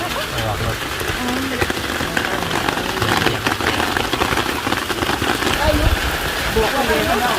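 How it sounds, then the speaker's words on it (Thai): Rain begins falling at a Thai temple, a steady broadband patter with scattered drop hits throughout, while someone talks over it. "ตอนนี้ฝนก็กำลังเริ่มตกแล้วนะคะ"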